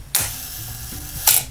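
SLR camera shutter firing at a one-second exposure: a sharp mechanical clack as it opens, a quiet hum for about a second, then a second crisp clack as it closes, close and isolated.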